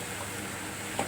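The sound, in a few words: sautéing coriander leaves with onion and tomato in a pan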